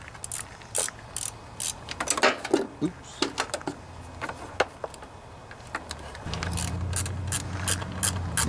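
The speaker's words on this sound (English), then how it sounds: "I have a 3/8 socket here." A 3/8 socket ratchet works on the bolts of a Briggs and Stratton OHV Intek engine, producing irregular close clicks and clanks in short bursts. A steady low hum comes in near the end.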